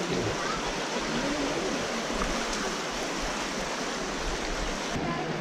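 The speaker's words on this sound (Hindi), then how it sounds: "पानी की बहाव देखो तेज है, पानी की बहाव बहुत भारी लगते हैं" A strong, fast stream of water rushes through a cave at Robber's Cave (Guchhupani) near Dehradun, a steady broadband roar of flowing water that fills the whole clip, close and loud with no break.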